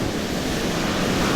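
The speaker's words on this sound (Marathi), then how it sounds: "किती लाटा आहेत बघा" Sea waves roll and break on a shore in a steady, unbroken wash of surf, loud and close, with some wind rumble and no voices.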